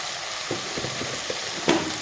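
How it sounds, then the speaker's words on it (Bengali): Onions for an egg paratha filling fry in a pan with a soft continuous sizzle, punctuated by a few light scrapes and knocks of stirring, the loudest near the end. "সুন্দর করে আমি হালকা লালচে করে ভেজে নেব"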